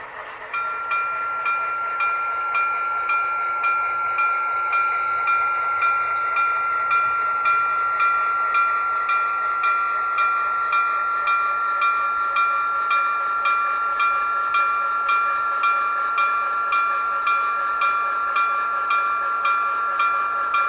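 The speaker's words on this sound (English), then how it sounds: "8618 is Strasburg's SW8 switcher" An HO scale model of Strasburg's SW8 switcher locomotive plays its sound, a loud, steady diesel drone with a sustained high tone and evenly spaced rhythmic pulses running throughout.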